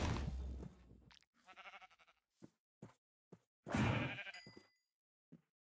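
Sheep bleating in a video game, several short nasal bleats in quick succession with brief silent gaps between them, close and clear with no talk.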